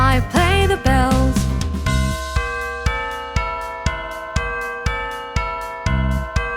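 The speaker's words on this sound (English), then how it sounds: "I play the bells." Bells ring in a children's nursery rhyme song, a steady run of bright, evenly spaced chime strikes over the music, loud and close.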